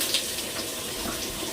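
Water poured over a child's head during a bath at home, a continuous close splashing pour of water for a moment.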